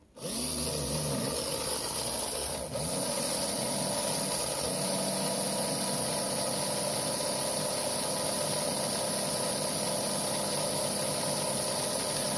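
A small Autoworld 4 Gear slot car motor runs on a dyno at 12.5 volts, a steady high electric whine and buzz heard close up, after a brief start at the beginning.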